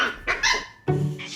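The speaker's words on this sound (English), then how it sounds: "She's barking at my feet." A dog barks in close, sharp bursts: two quick yips followed by a couple more barks, loud and clear with no talking over them.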